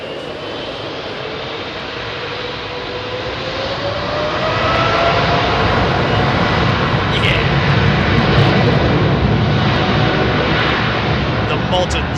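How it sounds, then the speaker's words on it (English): Airliner jet engines roaring on runway 27R at Heathrow Airport, a loud, close, continuous rumble that builds over several seconds and stays heavy, with a voice briefly speaking over it. "The modern sound of aviation."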